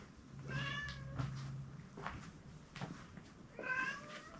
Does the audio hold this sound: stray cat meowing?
yes